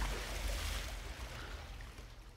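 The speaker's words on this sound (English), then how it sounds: "Why is there water in here?" Water flowing inside a dark building in a horror video game: a continuous broadband rush with a deep low rumble, steady and fairly close throughout, with no voices.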